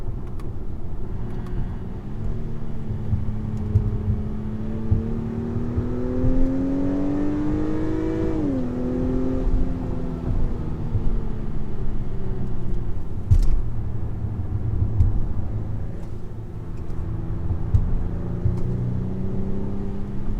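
A 2021 Acura TLX A-Spec SH-AWD driven on twisty roads, its engine note droning steadily, then climbing and dipping as the car works through bends, loud and continuous from inside the car.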